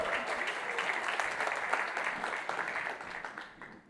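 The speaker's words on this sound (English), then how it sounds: "Can you give him a round of applause for saying that last name really well?" Audience applause at a qualitative research talk, a short burst of crowd clapping that holds steady and then fades out toward the end.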